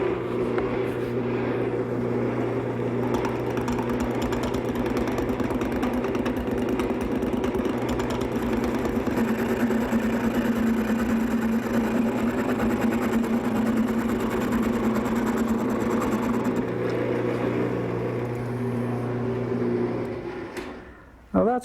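Wood lathe spinning a blank as a gouge rounds over the center part, a steady close motor hum and rumble with a continuous cutting whir lasting about twenty seconds before stopping abruptly.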